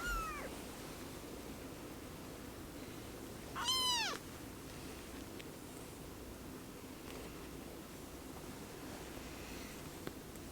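A kitten found behind a Toyota Tundra's back glass gives one short, faint meow amid quiet, near-silent surroundings.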